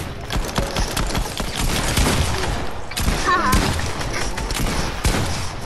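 Rapid bursts of pistol gunfire in the video game Fortnite, a dense, loud string of sharp cracks filling the whole stretch, with brief game effects mixed in.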